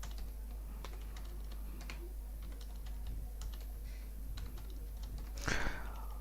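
Salary figures typed on a computer keyboard into an MS Excel sheet: faint, irregular light key taps over a steady low hum, with a louder rustle near the end.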